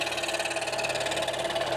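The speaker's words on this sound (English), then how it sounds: "you can find him in his garage, behind his Hawk scroll saw" A steady, buzzing Hawk scroll saw cutting wood hums continuously in a home garage workshop, a busy mechanical drone with rapid vibration and no pauses.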